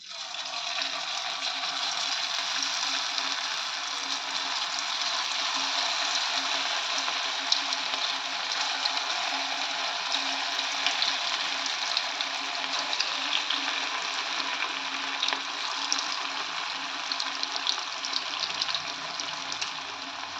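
Bread pakoda batter sizzles in hot oil, a loud, steady, close frying hiss that runs unbroken and without talk.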